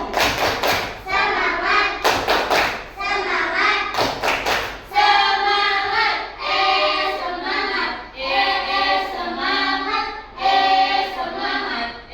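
A school class performs tepuk semangat, a rhythmic clapping chant: loud bursts of group claps alternating with children chanting in unison, close and energetic.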